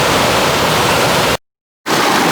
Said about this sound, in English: Here's Brian crossing No-Name Creek as it empties in the Animas River.